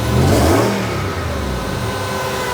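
The engine of a custom Ford Bronco, the El Bandito, revs hard up close, a throaty roar peaking early then settling into a steady rumble, with no voices.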